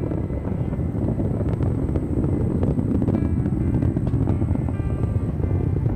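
Vulcan Centaur rocket with BE-4 engines during ascent, a steady, loud broadband roar with dense low rumble and wind-like buffeting that holds throughout without pause.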